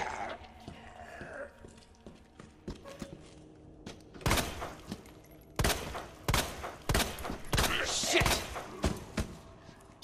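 Matilda handgun shots in Resident Evil 2, several sharp reports in quick succession in the second half over low game ambience, with heavy thuds among them.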